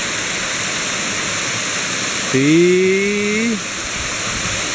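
Kor Luang waterfall pours with a steady, dense rush of white water that fills the whole scene, while a short voiced tone rises briefly over it midway.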